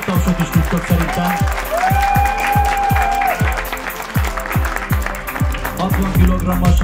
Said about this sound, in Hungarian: Ennél nagyobb tapsot is tudtok szerintem.